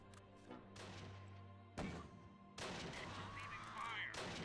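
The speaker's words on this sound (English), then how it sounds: "The enemy mortars aren't really hitting home, so that's good." Explosions and gunfire from enemy mortars in the Close Combat war game, with several loud thumping blasts and crackling bursts over a steady low hum and faint music.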